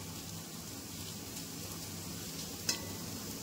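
Rice frying in a pan gives a faint, steady sizzle with a low background hum and one brief clink near the end, quiet and uninterrupted, with nobody speaking.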